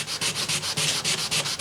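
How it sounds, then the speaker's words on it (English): Wet sanding of guitar wood with 600 grit sandpaper on a crushed J45 acoustic, close rhythmic back-and-forth rubbing strokes, steady and loud with brief gaps between passes. "crazy sanding this sucker"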